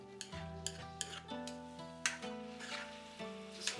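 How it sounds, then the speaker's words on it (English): Stir-fried chicken with cucumber in a glossy cornstarch sauce being stirred in a pan, giving a series of soft scraping and clinking utensil strokes over a faint sizzle, close and moderately quiet, with a steady tonal hum beneath. "Just a nice quick stir."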